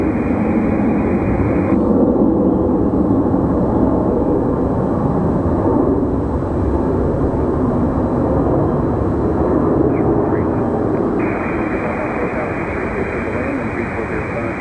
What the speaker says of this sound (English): Got a Southwest landing over here on 23 right.